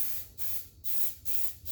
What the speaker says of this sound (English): So putting some spray in my pan, make sure it's sprayed properly